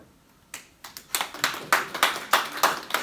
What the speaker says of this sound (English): that's very nice of you to clap me